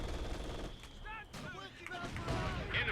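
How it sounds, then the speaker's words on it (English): Mortar rounds strike a machine gun position in a World War II style strategy game, with repeated loud blasts and gunfire-like cracks in a dense battle mix, under a talking voice. "Mortars hitting the MG, wearing it down."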